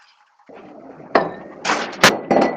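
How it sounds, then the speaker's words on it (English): A drinking glass gets knocked over, making a few sharp clattering knocks and clinks that follow a short quiet moment, close and fairly loud. "I just knocked my glass over."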